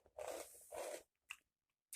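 Someone bites and chews on a gingerbread house, giving two loud crunchy bursts close to the mic, followed by a few smaller crunches and pauses.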